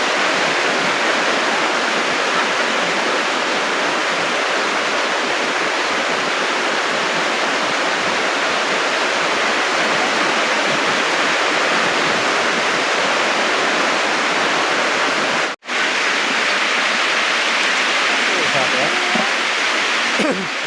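Rushing stream water swollen after rain, a dense, continuous roar of flowing water heard close and loud throughout, broken only by a split-second dropout near the end.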